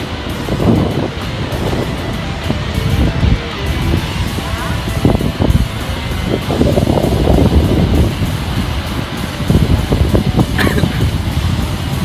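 Strong sea wind buffets the microphone beside crashing surf at Barangay Tiling, southern Negros Occidental, a loud, rough roar with gusty bursts throughout.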